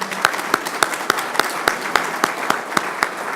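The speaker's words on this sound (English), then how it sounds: "I think we ought to give them a round of applause in their absence anyhow" A meeting audience at an economic development gathering applauds, with a close, loud, evenly paced clap standing out in a steady beat over the wider, softer bed of clapping.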